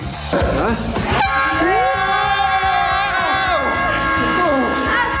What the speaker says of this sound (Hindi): अब हम उन्हें इस सीटी से बुलाएंगे।